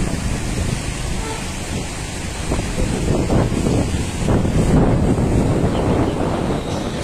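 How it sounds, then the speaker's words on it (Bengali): Strong, bitterly cold wind gusts outside a temple beside the fast-flowing Vitasta (Jhelum) river, a loud continuous roar buffeting the microphone with swelling surges and no clear talk. "মন্দিরের বাইরে অসম্ভব ঠান্ডা হাওয়া প্রচন্ড জোরে বইছে"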